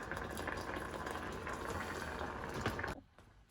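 Sugar syrup for a cake bubbles in a pot at a steady boil, a close, constant frothy hiss that cuts off abruptly near the end.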